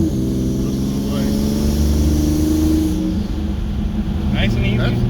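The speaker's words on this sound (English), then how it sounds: "He's gonna have his windows down the entire way back just so he can hear the turbo spool." Turbocharged 3.7 V6 in a Ford Mustang S550 fitted with a low-mount turbo kit, heard from inside as it pulls steadily with a rising engine drone and whining spool, while people talk over it.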